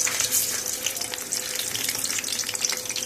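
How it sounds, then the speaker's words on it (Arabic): Eggplant and peppers frying in hot oil give a steady, dense sizzle and crackle, close and constant with small spits and pops throughout. "هقلي بقى البتنجان والفلفل وارجع لكم"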